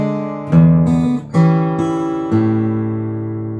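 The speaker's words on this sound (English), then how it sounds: "So measure 33 played with the alternate shapes sounds like this." Fingerstyle acoustic guitar arrangement of Randy Newman's "When I'm Gone" plays a short passage with alternate chord shapes: a few plucked, ringing chords in slow succession, close and clear, sustaining and fading with no voices.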